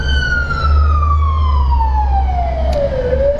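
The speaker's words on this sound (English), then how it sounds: "That's the police going by, guys." A police car siren passes by, one loud wailing tone that sweeps slowly downward in pitch over a few seconds, steady and alone with a low road rumble underneath.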